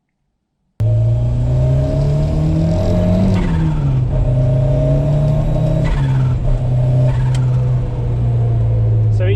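Urchfab 100E race car on track at Cadwell Park, its engine roaring loud and close throughout, pitch rising and falling through gear changes and revs with steady exhaust drone.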